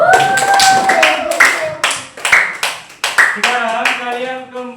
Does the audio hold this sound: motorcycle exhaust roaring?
no